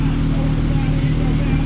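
Idling Volkswagen MK4 with a 1.8T engine, big intake and Pro MAF, running steadily up close as a low, even rumble that holds for the whole moment.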